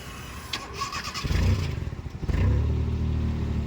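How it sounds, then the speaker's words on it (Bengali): A manual car's engine cranks briefly, catches and settles into a loud, rumbling idle close by, then surges again as it steadies, with no talking over it. "যাও ক্লাচ করে স্টার্ট করো।"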